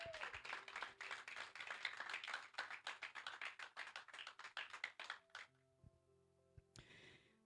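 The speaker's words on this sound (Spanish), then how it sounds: "dale un fuerte aplauso al Señor." A church congregation claps rapidly and loudly for several seconds during a sermon, then the applause stops abruptly, leaving a quiet room with a few faint knocks.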